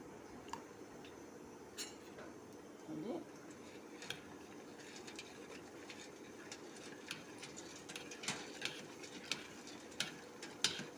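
Jaggery being pounded and stirred by hand for panakam, a sweet Sri Rama Navami drink, giving repeated light clinks and taps of a utensil against a vessel, scattered and irregular, fairly faint amid soft room noise.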